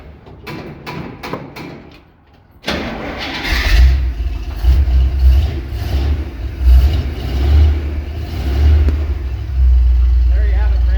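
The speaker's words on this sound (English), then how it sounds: "But we'll fire it up here and see if she starts." A 1970 Jeep with a 350 V8 on a single-barrel carburetor, leaking fluids, cranks briefly after a few clicks, then catches and settles into a loud, deep, rumbling idle with rising revs, close by, with speech mixed in.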